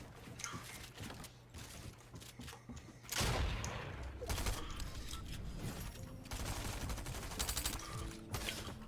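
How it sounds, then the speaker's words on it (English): Shotgun blasts and battle noise from Fortnite Chapter 3 arena play, with repeated sharp shots, mechanical clatter and a heavier burst partway through, all fairly loud and busy. "he hates using the auto shotgun. Yeah, it's a shotgun that does 50 damage"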